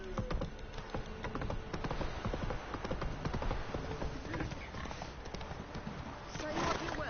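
Geralt's horse Roach trots in The Witcher 3, a steady, rapid clip-clop of hooves, close and continuous, with voices talking over it.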